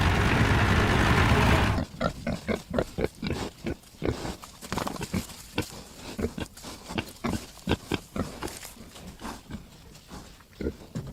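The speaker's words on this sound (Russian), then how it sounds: "Свинья." A pig oinks and grunts in a run of short, irregular snorts, close and fairly loud, after a brief burst of dense, noisy sound at the very start.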